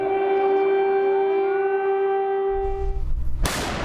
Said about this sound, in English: Sirens, missile strikes, and bursts of gunfire echo across the country.